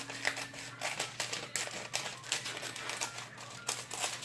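Parchment paper being folded and cut with scissors to line a cake pan, giving a close, steady run of crisp crinkles and sharp snips with no voices.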